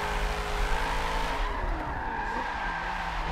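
Tires squeal steadily in a continuous skid while a race car's engine drones underneath, as a car drifts through a corner in a Forza drift competition, loud and close.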